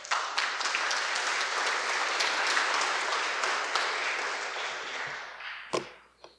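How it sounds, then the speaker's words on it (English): An audience at a memorial ceremony for fallen military heroes applauds a family representative, with steady full-room clapping that tapers off near the end, followed by a single sharp knock. "Give him a round of applause,"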